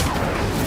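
An Incendio fire spell cast in the video game Hogwarts Legacy: a dense, roaring burst of flame that fills the whole brief moment at steady loudness, with no talking.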